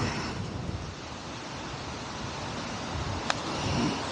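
Wind gusts across an open golf course in a soft, steady rushing roar close to the microphone, with no voices.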